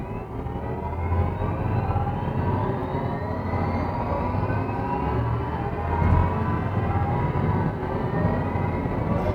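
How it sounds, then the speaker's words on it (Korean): Mini Aceman electric car accelerating hard at full throttle from low speed, a steady loud synthetic drive sound with rising whine that builds continuously for several seconds, heard from inside the cabin with no talking. "저속에서 고속으로 풀악셀!"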